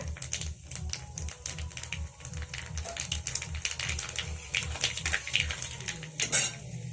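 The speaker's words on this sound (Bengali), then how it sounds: "তেল গরম হয়ে গেছে তেলে দিয়ে দিলাম ছোট চামচের এক চামচ কালো জিরে" Black cumin seeds drop into hot oil for garlic palak paneer, a busy crackling sputter of rapid popping and ticking, close and fairly loud, continuing for several seconds with no talk.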